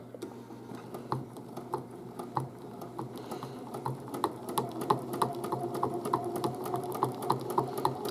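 A sewing machine fitted with a walking foot stitches through quilt fabric, a fast even run of close mechanical ticks that grows a little louder and steadier as it goes, with no talking.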